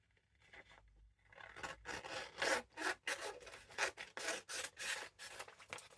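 Scissors cutting out a paper journal page, a run of close, rhythmic dry snips and rustles after a brief quiet start, fairly loud and alone with no talk.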